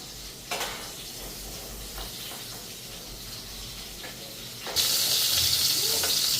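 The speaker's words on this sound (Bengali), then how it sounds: "এখন আলুটা ভেজা বসাই দেব" Potatoes hit a hot pan and burst into a loud, steady sizzle partway through, after a stretch of quieter background with a few clinks of utensils against cookware.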